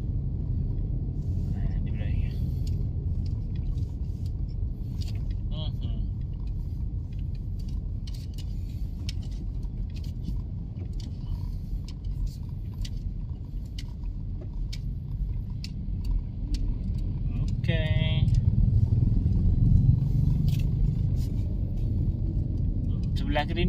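Steady road traffic rumbles through Bintaro as cars and motorcycles pass at close range, with a voice talking over the low engine noise.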